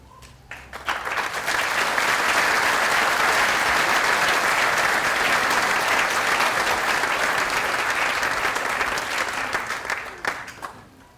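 An audience applauds at a high school graduation ceremony for the Fair Haven Union band, the clapping swelling quickly into a loud, dense, sustained roar that holds for several seconds before tapering off.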